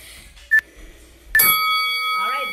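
A bell marks the start of a kickboxing round in a class: one short ding, then a second strike that rings on with a sustained metallic tone.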